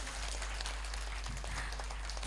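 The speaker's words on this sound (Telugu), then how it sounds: "ఒకసారి గట్టిగా చప్పట్లతో వారిని వేదిక మీదకి ఆహ్వానించుకుందాం." Audience clapping welcomes guests onto the stage at a pyramid anniversary event, a steady dense patter of many hands over a low hum, moderately loud throughout.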